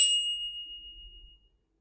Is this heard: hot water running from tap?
no